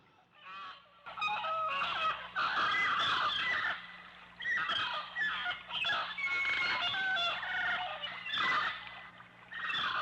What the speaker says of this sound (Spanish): Pero los animales solo chillaban, cacareaban y bramaban.